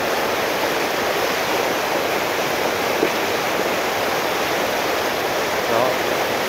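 A mountain stream swollen by a flash flood rushes in a steady, loud broadband roar that holds unbroken throughout.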